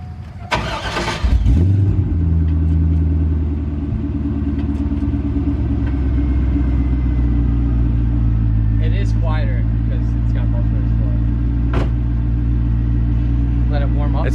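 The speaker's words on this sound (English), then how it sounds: "It's still pretty loud at idle." C5 Corvette with an LS1 5.7L V8 and a Magnaflow axle-back exhaust idling nearby, a loud, steady, deep rumble that holds after a brief startup burst, with people talking over it.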